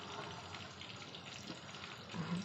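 Chicken egg chops sizzling in oil in a pan, a steady close hiss with soft crackle throughout, no talk over it.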